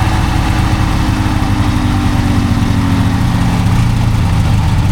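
The two-stroke engine of a 1998 Ski-Doo 583 Deluxe snowmobile runs continuously, a loud, close, steady low drone with a fairly even pitch and no clear revving swings, and no talking.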